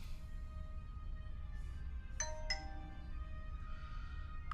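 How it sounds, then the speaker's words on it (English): A device notification chime sounds a two-note ding-dong, followed by a softer tone, over a constant low background hum. "there goes my thing going ding dong, ding dong"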